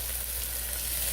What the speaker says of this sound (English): Then I'm going to add just a teaspoon of fennel seeds